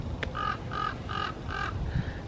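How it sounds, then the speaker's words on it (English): Outdoor birds give four or five harsh, evenly spaced caws in a steady rhythm, fairly close and clear over faint background noise, with no voices. "Okay, so I hear birds again."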